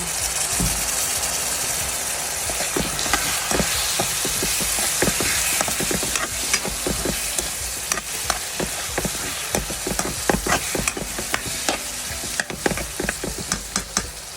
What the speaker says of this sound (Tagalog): Lutuin muna natin ang siguro mga 3 minutes ang bawang sibuyas at ang konting sahog na leftover na pork